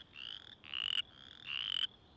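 Western chorus frog calls in two rising, rasping trills, each ending in a loud buzzing burst, clear and close against a quiet background.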